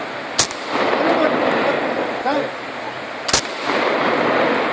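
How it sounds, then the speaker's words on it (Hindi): Gunshots fired into the air at a Kalash funeral rite, two sharp loud cracks about three seconds apart over a dense outdoor crowd murmur with voices. "इस रस्म में शिरकत करने वाले अगर मुसलमान हो तो उनको सबसे पहले हवाई फायरिंग करना पड़ता है"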